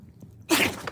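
A single sharp sneeze bursts out after a brief quiet moment, close and fairly loud, ending within half a second.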